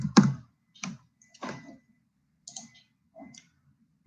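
Code being typed on a computer keyboard: a handful of separate, close key clicks spaced irregularly across a few seconds, with quiet gaps between them and no speech.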